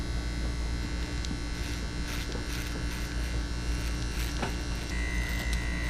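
Electric hair clippers with the lever closed cut close against the scalp at the nape of the neck, giving a steady, close, continuous buzz that runs throughout with no speech.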